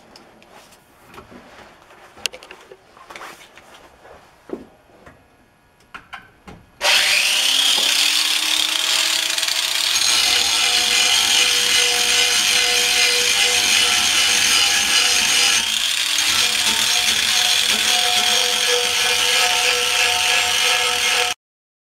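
Angle grinder biting into steel on a shop press build, a loud continuous high-pitched grinding whine that starts abruptly after some quiet handling clatter and runs steadily to the end.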